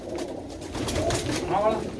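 Pigeons coo in low, throaty bursts close by, with a rising warble near the end, while people talk over the birds.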